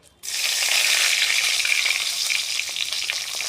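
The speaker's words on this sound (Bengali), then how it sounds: "তারপর এই পনির তেলে দিয়ে দেব তেজপাতা 2টো" Paneer dropped into hot oil with two bay leaves erupts into a sudden loud, close sizzle that holds steady for a few seconds, with no talk.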